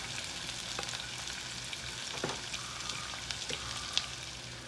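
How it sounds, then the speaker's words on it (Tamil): Onions sauté in hot oil for a Jaffna chicken curry, giving a steady, moderately quiet sizzle with a few faint clicks and stirring taps and no talking. "இப்போ இதில் 2 மீடியம் சைஸ் வெங்காயம், இது என்ன செய்யணும்னா இதையும் போட்டு அதையும் போட்டு வதக்கணும்."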